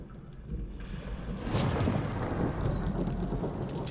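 A heavy thunderstorm in Marvel's Guardians of the Galaxy: driving rain hisses continuously while a deep rolling rumble of thunder swells and holds loud, with no voices.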